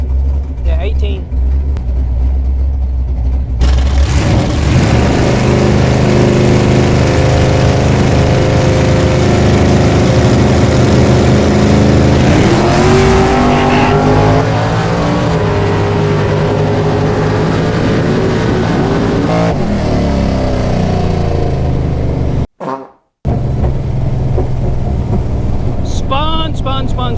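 A drag race car roars loudly at launch and spins out, its engine droning and rising with shifting pitch for long stretches, heard close with people talking throughout.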